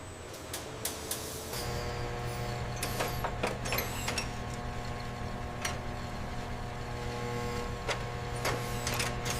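Automated cutting machine in a private jet manufacturing workshop running a cut sequence: a steady mechanical hum with tonal whine, punctuated by repeated sharp clicks and ticks, fairly quiet and continuous.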